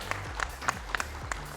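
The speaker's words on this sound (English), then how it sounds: "Give them a round of applause," Audience at a speed debate gives the winning team a round of applause, a quieter, thinner patter of clapping with a few distinct sharper claps.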